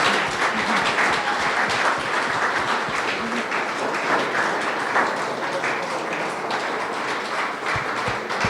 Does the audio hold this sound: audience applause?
yes